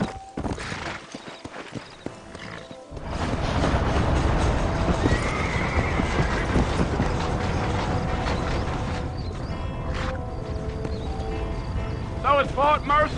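In the Red Dead Redemption western game, a horse whinnies clearly and its hooves clip-clop in a steady rhythm alongside creaking tack and ratcheting mechanical sounds, with speaking voices at the start.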